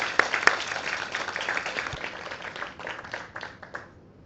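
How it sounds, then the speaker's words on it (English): An audience at a panel on customary rules gives the speakers a round of applause, fairly faint and thinning out, with a few distinct claps early on before fading into quiet. "I will say an applause for the speakers."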